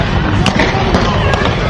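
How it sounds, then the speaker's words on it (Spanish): Gunfire in a street shootout between police and robbers in Bogotá: several sharp cracks spaced irregularly, loud and close, over a noisy background with voices talking. "Tiros aquí en Bogotá."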